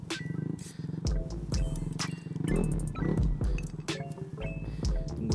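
A Vespa LX scooter engine revs hard in repeated loud throttle blips, rising and falling with a raspy, aggressive tone close by; no talking.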